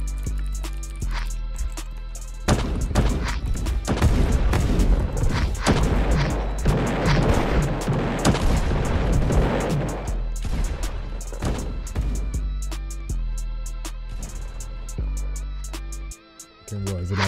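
An RPG explosion in an online video game, heavy booming blasts and crashing impacts that build into a loud, dense stretch of noise in the middle before thinning into sparser thuds and clicks.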